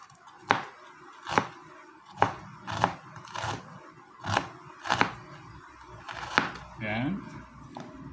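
Knife chopping onion on a board for a homemade vegetable salad, about ten distinct close chops in a loose, uneven rhythm, with a voice speaking briefly near the end.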